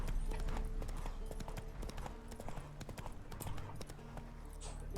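Roach the horse gallops through The Witcher 3, hooves clip-clopping in a quick, continuous rhythm over steady game music and ambience.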